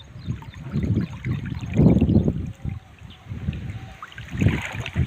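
A stream in spate after recent heavy rain pours across the main road to a school, with steady turbulent rushing water and gusts of wind noise rising and falling over it.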